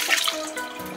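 Soaking water poured out of a small bowl of sliced beef tongue, a brief close splashing trickle of liquid without any talking.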